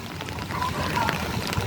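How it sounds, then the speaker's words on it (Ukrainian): Rain falls steadily in a park, a continuous rushing patter with music playing faintly in the background. "Грає музика в парку, іде дощ."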